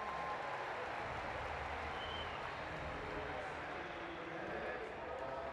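A stadium crowd at the London 2012 Paralympics men's T37 1500m final cheers for British athlete Dean Miller, a steady broad roar of applause and shouting throughout, with a commentator talking over it.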